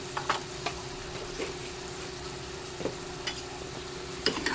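Chicken liver adobo frying in a pan while being stirred, a steady close sizzle broken by scattered scraping clinks of a utensil against the pan, with no talking.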